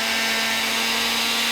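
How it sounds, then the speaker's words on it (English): A kitchen blender whirs steadily with a constant motor hum, blending roasted tomatoes in small batches for homemade tinga tostadas, loud and close with no talking. "Drop them here in my blender"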